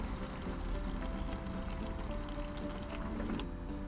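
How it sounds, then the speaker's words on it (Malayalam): Coconut oil poured into a pan of fish peera made with anchovies (netholi), a steady soft liquid pour running close and continuous for several seconds with no talking. "ഇനി ഇതിലേക്ക് നമുക്ക് അവസാനം കുറച്ച് വെളിച്ചെണ്ണ കൂടി ചേർക്കാം"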